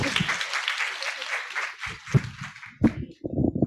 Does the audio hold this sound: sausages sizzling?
no